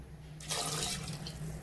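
Water pours into a mixer jar while chicken curry paste is being ground, beginning abruptly as a loud splashing gush that settles into a steady running flow over a low background hum.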